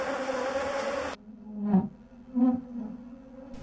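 Aggressive killer bees buzz in bursts close by, a droning hum that swells twice and fades after an abrupt cut from a louder, denser swarm sound, with no talking.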